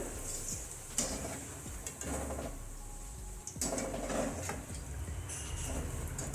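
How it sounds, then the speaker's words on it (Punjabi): Koftas frying in hot oil in a wok (kadai), a steady broadband sizzle with occasional stirring clatter and bubbling bursts, close and continuous with no voices. "ਬਾਕੀ ਦੇ ਕੋਫਤੇ ਵੀ ਆਪਾਂ ਪਾ ਦਿੱਤੇ ਸੀ ਕੜਾਈ ਦੇ ਵਿੱਚ"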